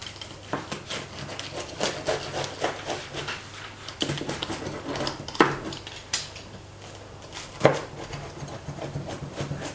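A knife slicing through a hot, freshly baked rustic focaccia, with repeated crackling crust cuts and clatters against a board or tray, close up, in uneven bursts and several sharper knocks.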